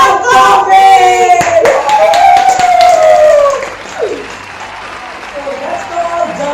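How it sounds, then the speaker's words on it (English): Loud burst of applause and clapping hands for an award winner at a staged awards show, sustained for a few seconds before fading into quieter crowd noise. "Give a big round of applause for Dalgona Coffee"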